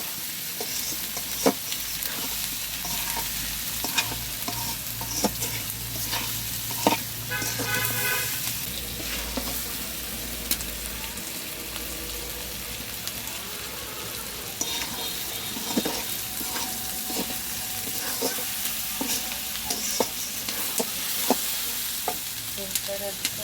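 Spice paste for a Bengali chicken curry sizzles steadily in a pan while a spoon scrapes and stirs it in repeated strokes, close and continuous, with faint background noise and no talking.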